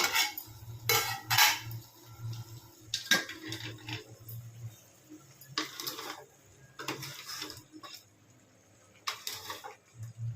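Metal clinks and clatters of a lid being lifted from a pot of country chicken curry, several sharp bursts spread over the clip above a low steady hum, with no talking.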